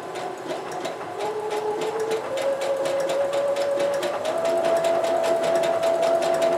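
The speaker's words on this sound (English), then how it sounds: "the harder you press on the gas pedal, the faster the sewing machine will go" Sewing machine running a multi-stitch pattern through fabric for cosplay sewing, a steady fast mechanical clatter that keeps its rhythm and gradually speeds up and rises in pitch as the pedal is pressed harder, continuous and close.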